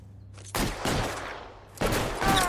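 Shotgun blasts in the crime video game L.A. Noire: two loud broadband bursts with long decaying tails, about a second apart, followed by more gunfire near the end, no talk.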